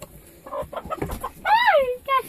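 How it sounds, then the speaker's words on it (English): Backyard hens cluck and squawk as a child lifts one, with short clucks followed by a loud, rising distressed squawk and another brief call, close and sharp. "So Cameron, do you want to show Ethan how you pick up a chicken?"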